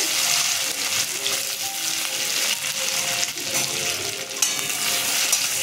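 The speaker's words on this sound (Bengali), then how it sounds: "আমি কাজুটা ভেজে নিচ্ছি।" Cashews sizzling in a pan while being fried for payesh, a steady bright crackle and hiss with occasional stirring scrapes, close and continuous.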